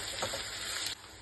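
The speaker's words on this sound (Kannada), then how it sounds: "ಒಣಮೆಣ್ಸಿನ್ಕಾಯಿ ಹಾಕ್ತಾಯಿದ್ದೀನಿ. ಹಾಕ್ಕೊಂಬಿಟ್ಟು ಚೆನ್ನಾಗಿ ಫ್ರೈ ಮಾಡ್ಕೊಳ್ಳಿ" Dry red chillies frying in a pan for tamarind chitranna, a steady close sizzle that drops abruptly near the end.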